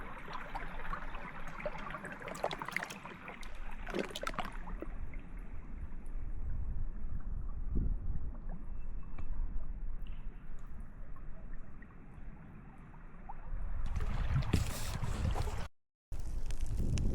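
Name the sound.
wind blowing in Alaska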